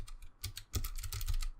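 Quick, clacky typing on a blue-switch mechanical keyboard with its keycaps removed, played during a typing-based shooting game. Keystrokes come in a fast, uneven run up close, with a short pause near the start and no talking.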